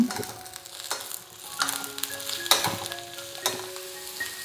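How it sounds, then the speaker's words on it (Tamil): Carrot, beans and potato sauté in a pan, giving a soft, continuous sizzle with scattered crackles and occasional scraping clinks of a spoon stirring, fairly close and moderately quiet, with no voices. "கேரட்டு, பீன்ஸு, உருளைக்கிழங்கு இதெல்லாத்தையும் சேர்த்து நம்ம நல்லா வதக்கிக்கலாம். இப்போ நம்ம வதக்கி விட்டுக்கலாம்."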